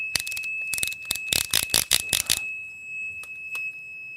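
A multimeter emits a steady high beep tone, overlaid by a rapid series of sharp clicks or taps, then a couple of isolated ticks near the end; close and clear.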